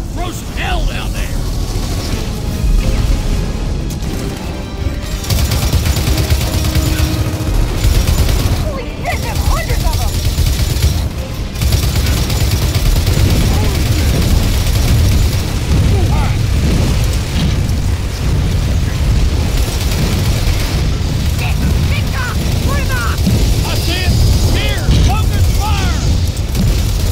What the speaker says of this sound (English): That turret throws hell down there!